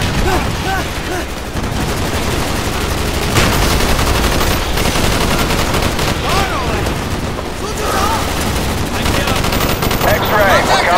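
Dense, continuous gunfire from a strafing run in the Call of Duty: Black Ops campaign, loud and sustained throughout, with heavy booming layers and battle noise beneath.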